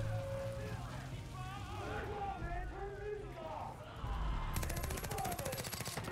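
A chain gun fires in Far Cry 5 as a rapid, buzzing burst of shots in the last couple of seconds, following a stretch of busy game noise and chatter.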